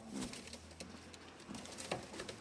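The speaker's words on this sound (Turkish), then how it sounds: "Kuşlarımız bunlar arkadaşlar." Mardin tumbler pigeons cooing in a loft, soft repeated coos close by over a constant background hiss with faint rustling.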